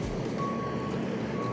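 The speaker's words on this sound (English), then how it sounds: "Looks like we've got another truck here that just came in." A truck arriving at a pond dam construction site sounds its reversing alarm, a steady repeating beep over a constant low engine rumble, loud and close throughout.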